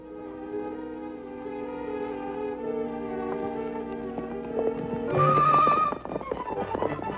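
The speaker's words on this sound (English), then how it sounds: "Where we're going, only horses can take us." Horses clip-clop along at a trot with a loud whinny rising midway, set against a music score with no talk.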